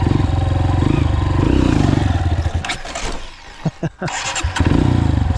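Yamaha TTR230 dirt bike engine running loud and close during a wheelie attempt on uphill ground, a steady throbbing drone that dips and sputters briefly before picking back up.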